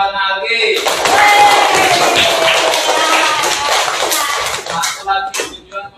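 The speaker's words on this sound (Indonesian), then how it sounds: "Tepuk tangan buat Algi." A class of students in a West Sumatra, Indonesia classroom claps in a burst, loud at first then thinning into scattered claps, with children's voices mixed in.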